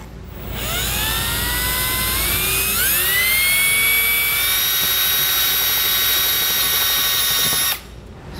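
A power drill bores a larger hole through an RV's exterior wall to mount a Surco ladder on a 2020 Dutchmen Coleman Lantern LT travel trailer, whining steadily and loudly for about seven seconds with its pitch rising partway through, no talking.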